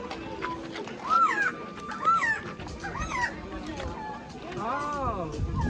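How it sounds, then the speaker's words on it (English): Several bright, warbling bird calls rise and fall in short phrases over a steady rustling background, with a few clucking notes mixed in. "let me show you the real sound of the bird"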